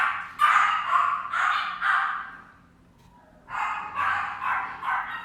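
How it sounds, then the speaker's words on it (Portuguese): Several dogs bark in short bursts inside a home, a cluster of sharp barks followed by a pause and then another run of yelps, close and fairly loud. "meus cachorros vão latir"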